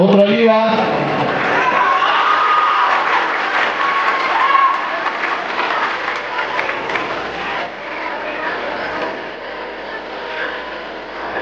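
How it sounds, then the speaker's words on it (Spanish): A crowd claps and cheers at the 2024 Catrina parade in Erongarícuaro, loud at first and easing to a lighter, steady clatter of hands, with people speaking over the applause. "El aplauso para otra Lía."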